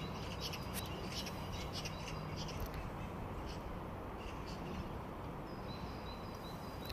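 A magpie riding on a pig in a park in Amsterdam in January gives harsh, scattered squawks over a steady outdoor background hiss, moderately near but not loud.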